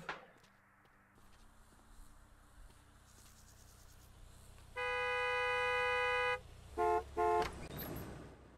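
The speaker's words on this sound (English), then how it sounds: "Don't you be honking at me." A car horn honks at a gas station, one long steady blast followed by two short toots, loud and close over a background of insect chirping.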